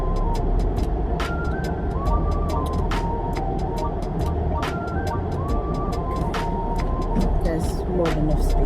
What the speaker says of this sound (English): I'm just turning the car around so I can get out.